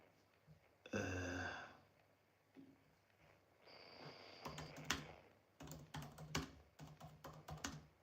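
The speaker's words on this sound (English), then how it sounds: "Every time I type Zalal and press space, it says halal." A computer keyboard typed on up close: a breathy sound first, then short bursts of crisp keystrokes tapping in uneven clusters, with no speech.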